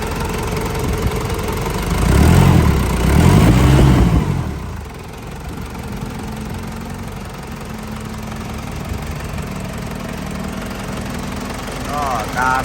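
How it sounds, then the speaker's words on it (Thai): A Land Rover Discovery 1 with a 1KZ engine cranks and catches with a rough, loud burst, then settles into a steady, throbbing idle that carries on evenly at close range. "เดี๋ยวจะลองสตาร์ทให้ให้ฟังนะครับ"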